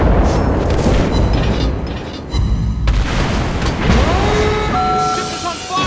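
A heavy booming salvo from an Italian tier 8 battleship, the Rome, firing its main guns in World of Warships Blitz, loud and rolling, with further blasts and game alert tones layered through the mix.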